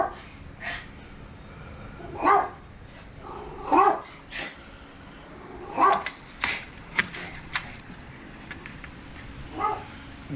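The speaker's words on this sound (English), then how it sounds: "that's neighbor out there walking their dog" A neighbor's dog being walked outside gives a series of short, sharp barks and yips, spaced irregularly and heard at a moderate distance against quiet background noise.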